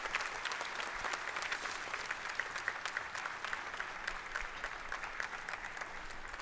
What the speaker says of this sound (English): All of you may please applaud for the degree recipients of Doctor of Philosophy.